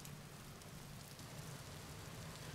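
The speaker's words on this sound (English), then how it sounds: "The rain really started picking up" Steady rain falls in the survival game Vintage Story, a dense, even hiss that holds at the same level from start to finish with no voices over it.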